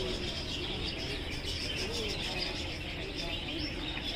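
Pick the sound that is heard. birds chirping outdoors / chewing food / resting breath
birds chirping outdoors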